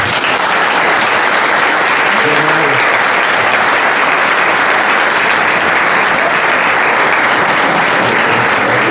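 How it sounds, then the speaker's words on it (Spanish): Loud, dense applause from a large audience at a presentation of a national giants and big-heads festival gathering in Abarán, sustained steadily throughout. "iniciemos con un fuerte aplauso esta presentación"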